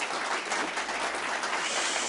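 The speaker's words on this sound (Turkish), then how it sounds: "bir alkış gönderelim mi?" An audience at a Turkish broadcast gives sustained applause, a continuous hissing roar of many clapping hands with no distinct single claps and no speech.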